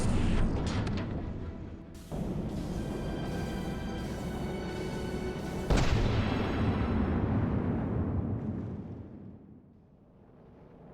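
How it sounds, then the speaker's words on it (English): Incoming torpedoes explode in From the Depths, two heavy booming blasts a few seconds apart, each followed by a long roaring rumble that slowly fades to quiet. "Torpedoes incoming."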